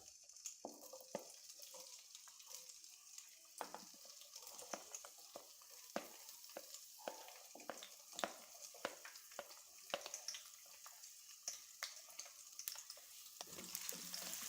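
Onions frying in hot ghee in a kadai: a steady, close sizzle with repeated stirring clicks and scrapes running throughout, no voices.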